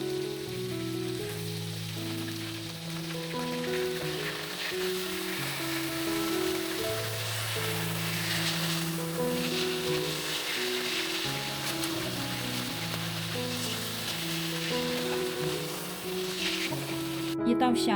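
A red sea fish pan-fries with a continuous crackling sizzle, like rain on a surface, under steady background music.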